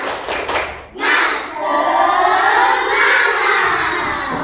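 A group of children at school do a rhythmic spirit clap, a sharp burst of claps followed by loud shouting and cheering voices that continue steadily.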